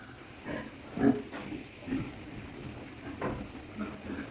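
Low, soft grunts from a pig with rectal prolapse in a quiet room, a handful of short snorts spaced irregularly, close but faint.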